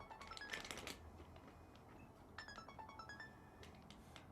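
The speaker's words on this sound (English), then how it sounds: "Somebody's phone is going." A mobile phone ringtone plays faintly during a rehearsal, a bright melodic sequence of repeating tones heard at a distance over soft rustling and handling noise.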